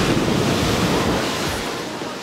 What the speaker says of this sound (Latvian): Un paskatās tiem viļņiem.